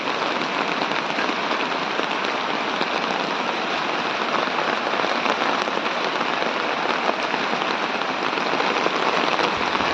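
A downpour of heavy morning rain, a loud, constant wash of drops hammering nearby surfaces without pause or voices.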